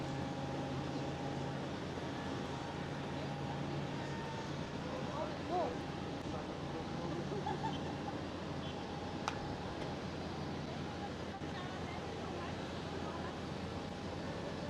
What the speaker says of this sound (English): There we go, TUI 787.